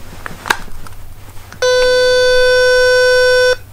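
A Realcare reborn hybrid baby doll gives a loud, steady electronic beep continuously for about two seconds, a single sustained tone after some faint background shuffling.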